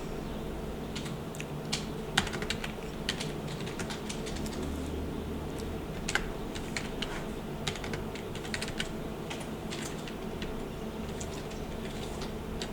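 Steady keyboard typing, a quick run of soft, clicky keystrokes with occasional louder taps, continuing throughout with no voices.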